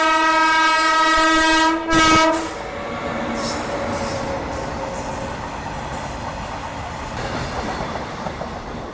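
A passenger train runs along a rural Maharashtra line, its horn blaring loudly at the start with a sharp burst before wheels rumble and clatter steadily on the rails.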